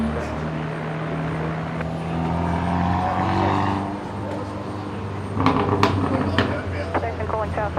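An aircraft takes off from runway 01 left at Brisbane International Airport, a steady engine roar droning throughout with a swelling rumble, mixed with radio chatter from air traffic control.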